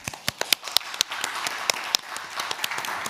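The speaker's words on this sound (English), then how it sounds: "If I can just get a round of applause." Audience applause for panelists at the end of an Internet Governance Forum session, a modest room of scattered clapping with distinct sharp individual claps standing out, close and uneven, without talk.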